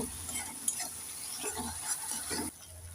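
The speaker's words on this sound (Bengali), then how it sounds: "এবার নেড়ে চেড়ে মশলাগুলোকে তিন মিনিট ভালোভাবে কষে নেব" Spice paste fried in oil with a little water is stirred with a spoon, giving scraping strokes over a soft sizzle that drops quieter near the end.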